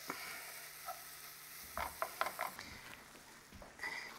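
Gorgonzola cheese melting with onions in a hot pan gives a soft, steady sizzle, broken midway by a few brief stirring scrapes and clicks; fairly quiet and close, with no talk.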